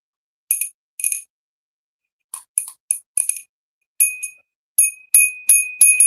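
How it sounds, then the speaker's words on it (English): A small Taiwan-made bell rings in short bright bursts, about a dozen quick jingling strikes spread across the moment, clear and close with silence between the shakes. "Beautiful ring. Beautiful bell."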